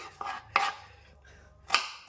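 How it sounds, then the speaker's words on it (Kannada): Vegetables for a chapati palya are cut into cubes with a knife on a board, three sharp close chops spaced unevenly over a quiet background. "ಈ ಕ್ಯೂಬ್ಸ್ ಥರ ಕಟ್ ಮಾಡ್ಕೊಬೋದು"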